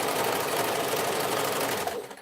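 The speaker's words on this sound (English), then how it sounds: "let's go ahead and stitch that 1/2 inch seam allowance down both sides of the lining" Close, steady whirring of a sewing machine stitching a half-inch seam down the side of a tote bag lining, running continuously before trailing off at the end, with no voices.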